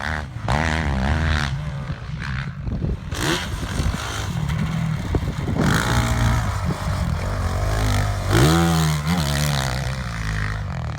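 A motorcycle engine on a ride along winding roads runs steadily, rising and falling in pitch as it accelerates and shifts gears, with loud wind rush throughout.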